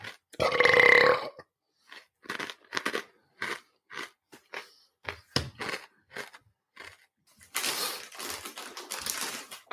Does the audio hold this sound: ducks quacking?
no